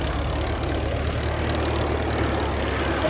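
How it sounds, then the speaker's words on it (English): SE-5A First World War fighter aircraft flying overhead, a steady droning piston engine roar, even and continuous throughout, fairly loud with no voices. "The third aircraft that's joined it is effectively the Spitfire of the First World War"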